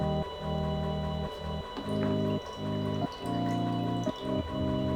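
Water drips and patters off freshly dunked resin 3D-printed parts, a run of irregular wet taps and trickles with short pauses between them, close and fairly clear, with no voices.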